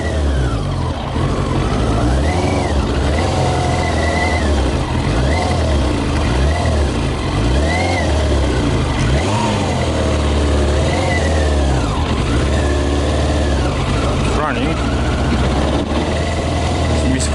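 Yamaha motorbike running on whisky in the tank while being ridden around a lawn, its engine loud and continuous with a rough, uneven misfiring note and repeated revving swells throughout.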